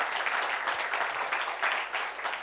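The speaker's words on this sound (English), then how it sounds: "A big round of applause." A conference audience gives a round of applause as a speaker is invited onto the stage, a steady wash of clapping at moderate loudness with no talk over it.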